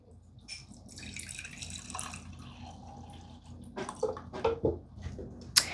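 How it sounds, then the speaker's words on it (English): Water poured into a glass jar for transplanting water-rooted plant cuttings, heard as soft trickling and splashing that builds toward the end, with a few sharper drips and clinks close by. "Okay, so I'm going to put some water in here."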